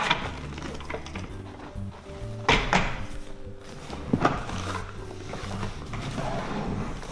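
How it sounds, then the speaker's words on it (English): Gaming chair being flipped over during assembly, with a few knocks and bumps of the chair parts over a low background hum, two sharper thuds standing out. "now I'm gonna flip this guy over, do the other side"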